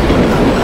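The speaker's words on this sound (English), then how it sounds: "Kereta cepat ini coy." A high-speed train rumbles and clatters close by in Call of Duty Modern Warfare 3, a brief dense, continuous roar of rolling wheels.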